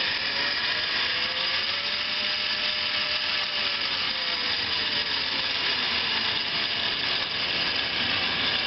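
A Hardinge HLV-BK tool room lathe runs steadily at variable speed, giving a continuous close mechanical whine with a drifting tone as the spindle slows and speeds up, with no voices.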